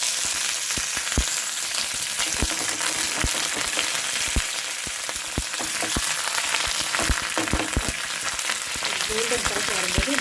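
Curry leaves, urad dal and two broken dried red chillies fry in hot oil, a steady close sizzle peppered with rapid crackles and pops throughout, with brief stirring near the end.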